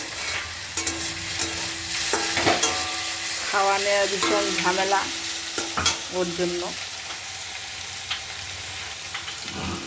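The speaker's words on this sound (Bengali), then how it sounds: "তার জন্য আলু ভাজতে লাগছে ওর জন্য" Potatoes frying in a pan in a home kitchen, giving a steady sizzle with stirring scrapes throughout, while a person talks over the cooking.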